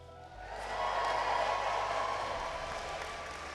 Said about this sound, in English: let's give them a big cheer